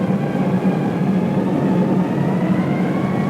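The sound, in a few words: first wave of aircraft droning overhead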